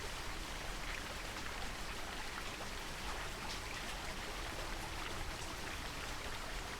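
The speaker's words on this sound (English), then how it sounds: "I just had to be standing next to a waterfall while doing this too." The waterfall in the video game Cryptmaster rushes as a constant, even hiss of falling water with no pauses, fairly soft and heard alone.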